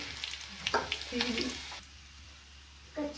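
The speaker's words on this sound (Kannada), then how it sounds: "ಫ್ರೆಂಡ್ಸ್, ಇವಾಗ ಕಡಲೆಕಾಯಿ ಬೀಜ ಹಾಕ್ತಾ ಇದ್ದೀನಿ" Peanuts frying in oil for mavinakayi chitranna, a quiet sizzle punctuated by a few stirring scrapes and clinks, then a brief lull before another stir.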